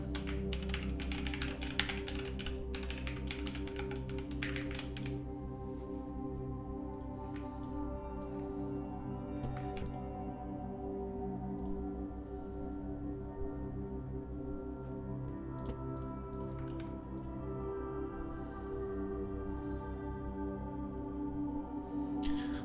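Keys tapped on a computer keyboard while a passphrase is entered, a quick run of clicks at the start then sparser taps over a steady low background hum.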